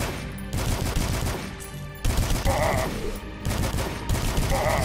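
A soul rifle in the shooter Dusk fires a fast, continuous burst of loud, harsh shots that roll on without a pause and sit right up close, with no talking.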